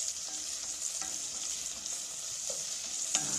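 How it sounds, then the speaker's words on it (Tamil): Chillies sautéing lightly with salt in a pan for chilli pickle, a steady soft sizzle with a few faint stirring scrapes and taps, close and continuous with no voices. "மிளகா ரொம்ப பயங்கரமாக ரொம்ப தரோவாக வதக்க வேண்டாம் லைட்டாக"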